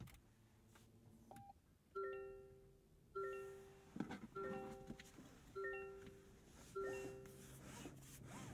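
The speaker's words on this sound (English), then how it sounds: "We just have those chimes to welcome us." A 2023 Toyota Prius Prime plug-in hybrid starts up in EV mode with its 2-liter four-cylinder silent, sounding a series of five clear electronic welcome chimes, evenly spaced about a second apart, over quiet cabin hum.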